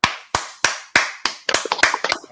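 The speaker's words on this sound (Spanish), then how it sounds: "Recibimos con un fuerte aplauso y ellos también van a aplaudir." Sharp individual hand claps in a welcome, starting as a few evenly spaced loud claps, then quickening into a denser cluster of overlapping claps near the close.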